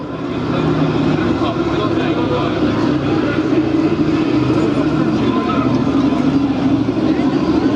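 A B-17 four-engined bomber with Wright Cyclone radial engines flies past at an air show in Clacton-on-Sea, Essex, its loud, steady droning roar holding constant with a deep rumbling underneath and no break.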